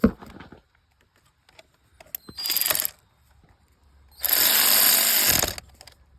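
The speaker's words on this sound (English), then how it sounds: "this little ratchet has 45 foot-pounds of torque" A small ratchet fitted with a thin-wall 14 mm socket turns out a spark plug on a Ford 1.5 EcoBoost engine, giving two bursts of close, buzzing clicks separated by quiet handling noises.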